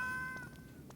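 A cat in the video game Genshin Impact gives a single soft, short meow, faint against a quiet background with gentle game ambience.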